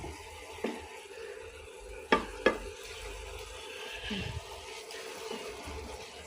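Red amaranth greens cooking in a pot are stirred lightly, with a faint steady simmer under a few sharp scraping knocks of the spoon against the pot.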